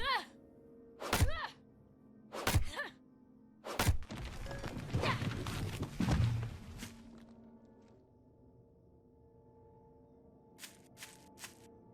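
Heavy thunking chops strike a tree in the game Night of the Dead, four sharp hits a second or so apart, then a crashing fall and rustle, followed by quieter scattered knocks.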